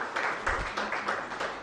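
An audience at a government ministerial briefing in Ghana applauds, a brief, steady patter of many hands clapping at moderate distance.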